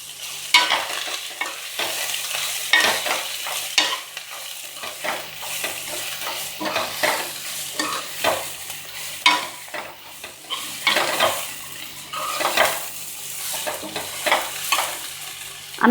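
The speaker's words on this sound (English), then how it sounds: "I'm going to add my cabbage and my seasonings. Let this cook for another 30 seconds and stir it well." Cabbage and mixed vegetables stir-fried for vegetable Hakka noodles, a constant close sizzle broken by repeated scraping stirs of a spatula in the pan, loud and busy throughout with no voices.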